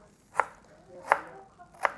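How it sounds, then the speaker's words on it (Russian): A kitchen knife chops carrot into thin strips on a board, giving three sharp, evenly spaced strikes close by with a quiet room between them. "морковку я нарезаю вот так вот, соломинку"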